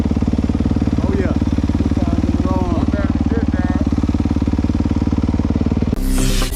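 Yamaha YZ250 two-stroke motocross bike engine running close by with a rapid, loud, steady pulsing drone, with voices talking over it and a rougher burst near the end.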